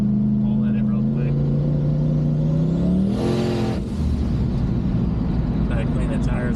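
Car with a TH400 automatic transmission accelerating hard in third gear on a straightaway, the engine note rising steadily then surging into a loud roar with rushing wind, close and continuous throughout.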